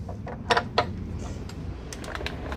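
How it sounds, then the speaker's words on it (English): Metallic clicks and scrapes come close up as a motorcycle front axle slides out after the cinch bolts are loosened, a few sharp knocks over a low background hum. "And then you slide out the axle and take out the front wheel."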